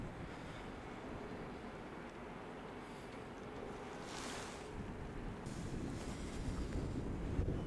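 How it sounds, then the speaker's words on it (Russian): A stormy sea seen from a cape, with a continuous roar of waves and wind buffeting the microphone, swelling slightly toward the end and heard with no voices. "вот такой отсюда вид на штормовое море."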